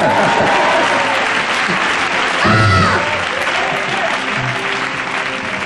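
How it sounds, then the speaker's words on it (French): A church congregation at a French-language sermon claps steadily and cheers throughout, with a swell of shouting in the middle and voices mixed into the applause. "Est-ce que quelqu'un peut acclamer le Seigneur?"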